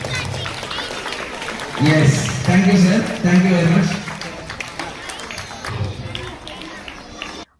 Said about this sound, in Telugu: Clap loudly.